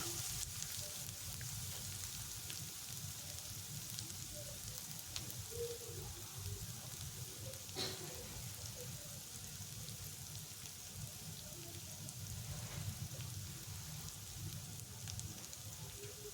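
Onions frying in a pan for egg fried rice, a low continuous sizzle and crackle, steady and faint, close by with no talk.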